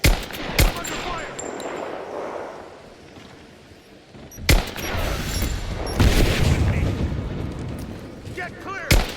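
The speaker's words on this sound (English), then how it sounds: "I'm under fire!" Gunfire in the video game Rise of the Tomb Raider, in the Geothermal Valley: loud sharp shots and bursts ring out over a rumbling battle din, with sustained rattling fire in the second half.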